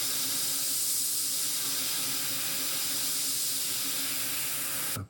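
Paint is sprayed off a sheet of film onto its back side, a steady close hiss that runs continuously for about five seconds, loud and without talk.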